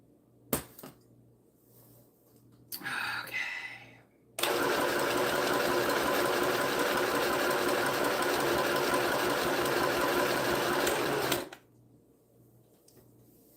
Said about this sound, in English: I'm sewing crooked by the looks of it, but that's me, not the machine.